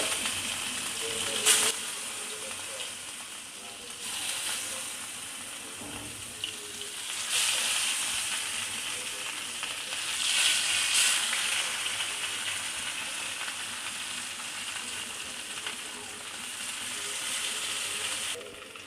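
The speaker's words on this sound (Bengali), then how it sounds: "তেল মাছ ভাজার সময় অবশ্যই ভালো গরম হলে ভালো হয়। তো আমি এক এক করে মাছগুলো এবার ছেড়ে দিব।" Steady hiss and crackle of katla fish frying in hot oil, with brief louder sizzling bursts as pieces go in, continuing throughout without talk.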